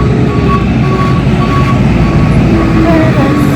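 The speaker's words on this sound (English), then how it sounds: "The trash truck is coming down this way" Garbage truck backing up with a steady repeating reverse beep over loud engine rumble and road noise, close by, with a voice talking over it.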